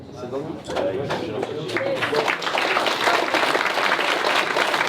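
Festival closing ceremony audience breaking into applause, starting under a speaking voice and swelling into steady, full crowd clapping that fills the rest of the span.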